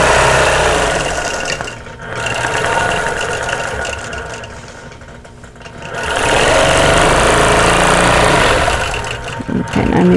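A sewing machine stitches a quilt block in loud, close bursts of rapid mechanical whirring, stopping briefly twice before running on again, with a voice talking between the runs.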